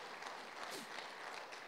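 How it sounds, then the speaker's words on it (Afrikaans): A church congregation claps hands together in steady, dense applause throughout, sustained and fairly distant. "gee net vir die Here hande klap vir dit wat hy al vir jou gedoen het"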